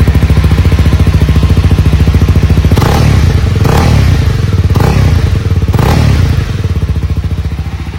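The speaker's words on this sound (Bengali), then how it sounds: "আপনাদেরকে ইঞ্জিনের সাউন্ডটা শোনানোর চেষ্টা করি" A Honda CB 300R motorcycle engine idles loud and close in a fast, even pulse, with several heavy revving surges in the middle before it settles back to a steady idle, no talk.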